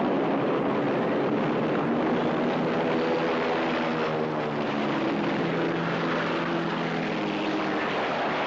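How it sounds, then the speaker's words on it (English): DC-7 propeller airliner flying in an air race, a steady loud droning piston-engine roar with a pulsing throb, close and continuous without any talk. "A DC-7 airliner, which can go the whole race without a pit stop."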